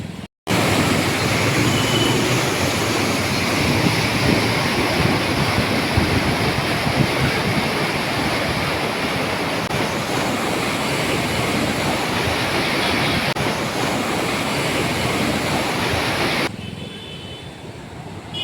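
Floodwater from the Jalna floods of 2025 rushes over a bridge, a loud, dense, unbroken roar that holds steady for the whole stretch and drops away sharply at the end.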